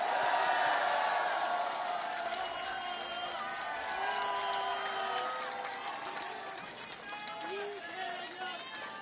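A large outdoor crowd at a Korean political rally applauds and cheers in a continuous, dense wash of clapping with scattered shouts, as voices carry through it and it gradually eases off.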